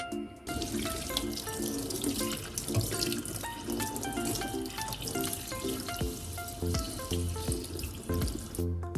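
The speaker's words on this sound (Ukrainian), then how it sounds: "через друшляк промиваємо перед холодною, під холодною проточною водою" Cold water runs steadily from a tap into a sink, rinsing squid in a colander, with items clattering and shifting under the stream throughout.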